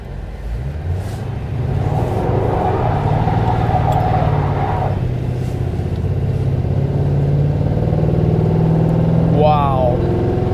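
A Suburban engine fitted with a new carburetor accelerates steadily, its low drone loud and sustained throughout, with a brief rising squeal near the end.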